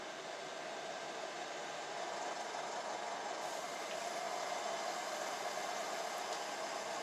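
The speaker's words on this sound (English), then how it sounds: "Well, your tractor's revving up now." A tractor engine in the video game Farming Simulator 19 gives off a steady, unbroken droning hum at even loudness throughout, with no voices.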